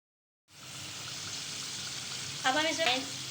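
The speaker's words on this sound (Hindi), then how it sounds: "अंडे भी डाल देंगे अब इसमें।" Eggs go into a pan of hot curry gravy for egg korma, a steady close sizzle starting abruptly from silence with a brief bubbling, splashing burst near the end.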